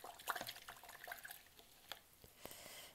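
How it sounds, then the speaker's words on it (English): An acrylic paintbrush swished and rinsed in a water cup, faint close splashing and dripping with small scattered knocks. "And then rinse out your brush again."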